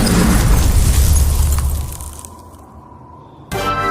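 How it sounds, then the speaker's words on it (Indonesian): A cold-wave ice explosion effect in an animated fantasy story bursts as a loud, broad roar that fades into a hissing tail, then a sharp bright crash cuts in near the end. "Ledakan gelombang dingin."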